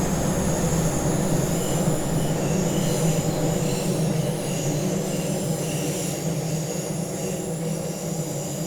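Simulated Class 612 diesel railcar running on the hilly Tharandter Rampe line, a steady loud rumble with rolling wheel noise and a faint high whine that carries on without pause throughout.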